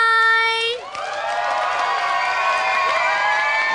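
A crowd at a Thai game-show road event cheers and shouts for a contestant. The loud roar of voices starts after a brief tonal sound and keeps going.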